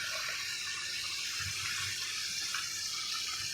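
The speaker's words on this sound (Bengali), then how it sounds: "আবার হালকা একটু জল দেবো।" A splash of water meets potatoes frying in oil, setting off a steady hiss and bubbling sizzle close by that holds at an even level throughout.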